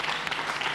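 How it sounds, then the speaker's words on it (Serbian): Studio audience applause on a Serbian TV talk show, a dense, steady wash of many hands clapping close and full, with no voices over it. "Lepa vest, molim vas jedan aplauz."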